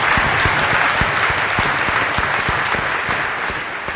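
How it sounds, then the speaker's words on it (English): Audience applause fills the room at a congressional candidates' debate, a steady dense patter of many hands clapping close by that fades slightly toward the end, with no speech over it. "a little clapping at the beginning here is good"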